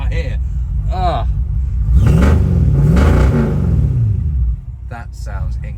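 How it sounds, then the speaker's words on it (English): A classic MG sports car engine starts and revs, rising to a deep throaty rumble with sweeping pitch changes before settling, with brief voices at the start and end around the engine noise. "Oh, what a sound. I think that's probably the best sounding car here."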